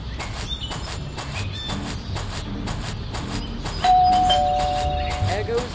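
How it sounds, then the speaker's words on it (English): A doorbell in Scary Teacher 3D chimes in a rapid repeating series of bright rings over game background sounds, followed by a sustained electronic tone near the end. "There goes that stupid bell again."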